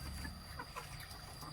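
Faint, soft clucking from a four-month-old chicken comes in short bursts at low volume over a steady background hum.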